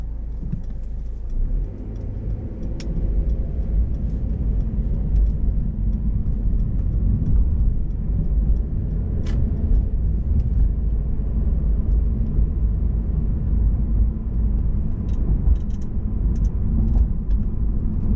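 Steady engine drone and low rumble inside a 2019 Mercedes-Benz C300 sedan while driving, continuous and moderately loud in the cabin with only faint road noise.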